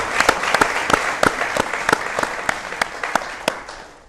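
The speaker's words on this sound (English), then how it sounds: "Please, a round of applause for him." Studio audience applause breaks out during a journalists' talk show special, a brisk burst of clapping with sharp individual claps standing out, holding steady before tapering off slightly.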